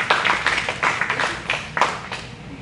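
A church congregation claps during a sermon, a modest, uneven patter of hands with distinct individual claps rising and falling in small bursts.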